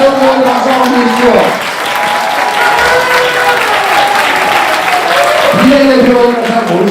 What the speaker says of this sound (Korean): 김동주 의원님 박수 한번 주십시오.